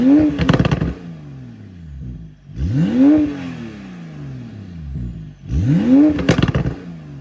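Porsche 992 Convertible with an ES700 upgrade, stainless steel race exhaust and custom tune, revved three times in loud close bursts, each climbing and falling back to idle between revs.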